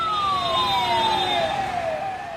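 Ambulance siren wailing loudly and steadily, its tone sliding downward as the vehicle passes close by, with traffic rumble underneath.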